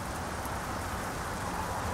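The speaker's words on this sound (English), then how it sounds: "I know it's raining" Steady rain falls outside a vehicle during a drive to the Helsinki container port, a continuous, even hiss of drops with no breaks and no voices.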